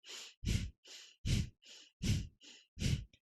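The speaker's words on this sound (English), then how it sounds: "breath of fire is an equal inhale to an equal exhale" Rapid rhythmic breathing through the nose, alternating quick forceful exhales and inhales in an even, steady pattern, close and alone.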